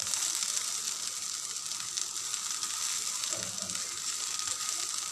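Orange peel frying in oil with rock salt for an orange-skin pickle makes a continuous, fairly quiet sizzle, with a few soft stirring scrapes partway through and no voices.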